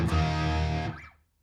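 An electric guitar through a BOSS Katana amp with boost engaged rings out in a single loud, distorted chord that sustains for nearly a second before being cut off and fading quickly to silence.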